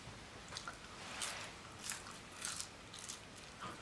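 Someone eats McDonald's fries up close, with soft crisp bites and chewing crunches in short bursts over faint room noise.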